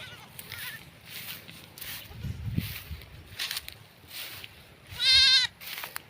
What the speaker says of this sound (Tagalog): Ang lahi niya, may lahi siya ng Boer. Ito yung ating barako.